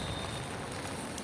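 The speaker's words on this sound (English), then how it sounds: "thanks to the rain" Rain falls on a surface during a rainy day in Dubai, a dense, even patter lasting about a second with no voices.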